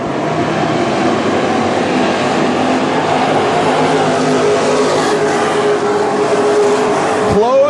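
WISSOTA Midwest Modified race cars circle the dirt oval at North Central Speedway in the final laps, a loud, continuous engine roar that swells as cars pass close by near the end.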